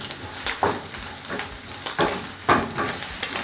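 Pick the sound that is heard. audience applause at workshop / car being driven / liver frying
liver frying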